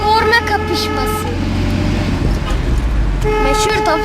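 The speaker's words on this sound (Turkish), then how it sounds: "şimdi korna kapışması" Car horns honk during a horn contest, with loud sustained toots sounding at the start and again near the end over steady traffic and engine noise, while voices talk underneath.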